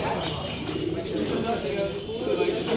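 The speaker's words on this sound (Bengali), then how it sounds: "দেখেন এই যে দিক দিয়ে কবুতর আছে" Pigeons coo softly at a busy Bangladeshi village market in Nawabganj, the low murmuring calls steady beneath a dense background of crowd chatter and market noise.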